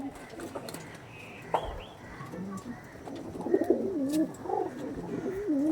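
Pigeons of a pure-bred fancy line coo in rising and falling rolls, close and fairly loud, over a faint murmur of background noise.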